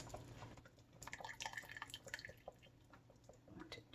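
Liquid drips and trickles off cooked chicken thighs as they drain, with irregular faint splashes and patters close by and no talk.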